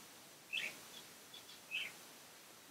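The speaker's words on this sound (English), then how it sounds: "These are finches and canaries." Finches give a few short, high chirps spaced about a second apart, faint and slightly distant against a quiet background hiss, in an exotic bird store.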